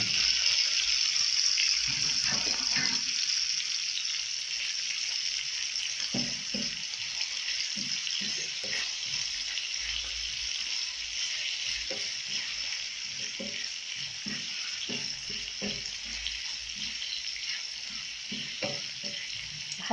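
Peppers fry in a pan, a steady bright sizzle running the whole time with occasional stirring clinks and scrapes, no voices.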